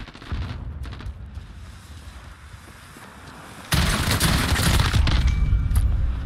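Burst-fire gunshots from a weapon in Call of Duty: Modern Warfare: steady rattling shots that turn much louder and denser partway through, a sustained barrage of close gunfire.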